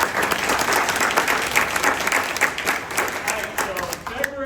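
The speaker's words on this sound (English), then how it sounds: "So give them a round of applause." A round of applause fills a meeting and pep rally, a dense, loud wash of many hands clapping that holds steady throughout.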